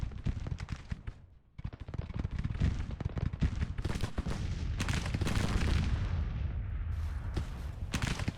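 Dense battle noise from the Grand Tactician: The Civil War strategy game, with rapid crackling musket gunfire and heavy booming artillery layered into a loud, continuous barrage that swells toward the end.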